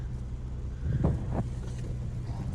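A Toyota Avalon engine, cold and with an EGR valve position sensor fault, idles at about 1,000 rpm with a low, steady hum, fairly quiet, with a couple of brief mechanical thumps partway through.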